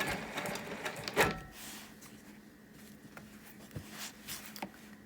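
A sewing machine stitches a wholecloth quilt in short, uneven runs with brief pauses, close and fairly quiet, with a sharper clack partway through and no talking.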